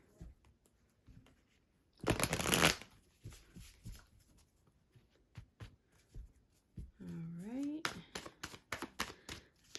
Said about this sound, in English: I'm going to go ahead and shuffle here